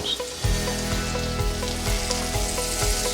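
About a cup of sliced mushrooms hits butter in a pan. A soft sizzle and frying crackle rise after a brief thump, with a few low clunks as the pieces settle. No talking.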